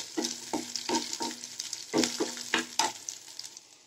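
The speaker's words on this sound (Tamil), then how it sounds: "இது நல்லா வதங்கிடும்." Onions sautéing in a pan for horse gram sambar, a soft sizzle broken by repeated stirring scrapes in an uneven rhythm, close and fairly quiet with no talking.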